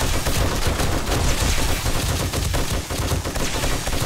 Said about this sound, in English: I should have made more ammo for the this junk turret.